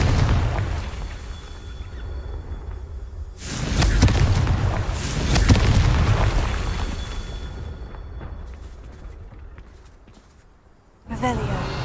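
A Confringo blasting spell goes off in Hogwarts Legacy: two loud booming fiery bursts a couple of seconds apart, each with a rumbling tail, followed by a sharp new crack near the end, with game voices present.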